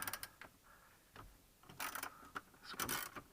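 Ratchet clicks as a 10mm socket loosens bolts on a Mazda CX-5 dash unit, with a few short bursts of rapid ratcheting close by, separated by brief pauses.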